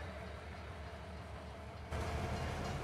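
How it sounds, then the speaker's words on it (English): Train running in Farming Simulator 19 on an alpine map, a steady low rumble of rail wagons that grows louder partway through, with no talking. "So we're gonna drive the train here."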